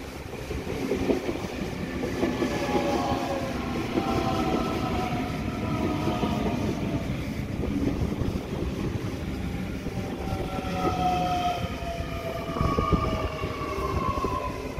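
Train sets pass through Punchbowl station with a continuous loud rumble and rolling wheel noise, with faint squeals and whines rising and falling throughout.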